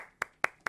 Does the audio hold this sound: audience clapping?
yes